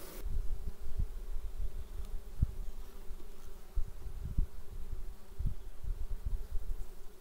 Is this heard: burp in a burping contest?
no